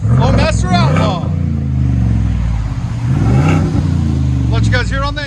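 A Ford F-250 pickup with a 7.3L gas V8 and Flowmaster Outlaw exhaust, loud and close, with deep rumbling revs that rise and fall in a couple of bursts while a voice talks over it.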